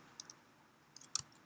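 A few faint, sharp key clicks on a computer keyboard while Python code is typed, sparse taps in two small clusters against a quiet background.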